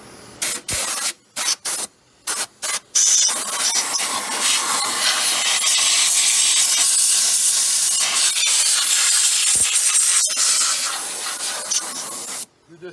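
Compressed air blasts dirt and grime off the valve cover of a Ford 5.4 three-valve engine, a loud close hiss that starts as several short bursts and then becomes one long continuous spray.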